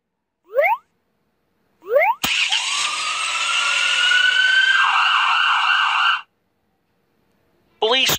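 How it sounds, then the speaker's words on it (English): A police car siren wails loudly and steadily for about four seconds, rising then warbling, bracketed by short cartoon voice snippets before and after. "A police car."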